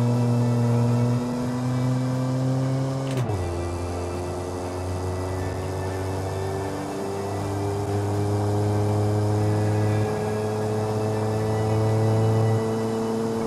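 A 1946 commuter sedan engine in BeamNG held at full throttle, a steady loud droning roar with a sharp shift in pitch partway through, then climbing again.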